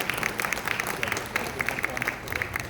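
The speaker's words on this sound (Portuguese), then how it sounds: "Vou até pedir uma salva de palmas aqui para o Rubens." An audience at the Fórum Blockmaster 2019 applauds a speaker, with steady crowd clapping that flickers with sharp individual claps throughout and some talk mixed in.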